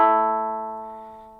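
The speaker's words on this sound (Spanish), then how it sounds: "Y la cuerda larga más los 2/3 suenan conjuntamente." A monochord's full-length string and a string stopped at two-thirds length ring together as one sustained harmonic tone. It starts from a single pluck and decays slowly and evenly, with no other sound around it.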